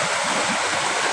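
A muddy, chocolate-colored river rushes in a steady, broad wash of flowing water, close and continuous with no other sounds.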